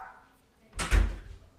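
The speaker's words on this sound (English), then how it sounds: "I am also going to shut my door because my dogs are going off on one." A home room door is pushed shut with a short swish and a solid thud that lands close and fairly loud, fading quickly to quiet.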